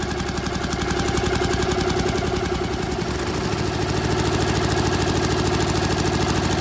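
A Honda Superdream 250 motorcycle engine idles steadily while warming up, a close, even mechanical chugging with constant loudness throughout and no talk.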